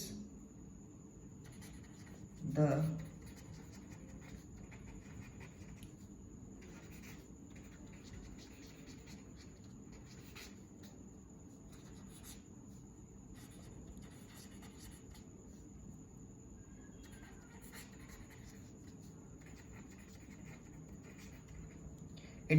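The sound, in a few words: writing notes by hand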